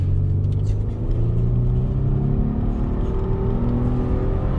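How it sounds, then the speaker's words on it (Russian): A 2019 Nissan Murano pulls away from a standstill, its engine rumble loud and steady and its rising harmonics climbing as the car gathers speed, with a voice talking over the drive. "Да, подрыв есть, мы поехали, машинка у нас нелегкая"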